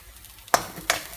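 Onions fry in a pan for kande pohe. A soft sizzle is broken by two sharp clinks or stirring scrapes about a third of a second apart.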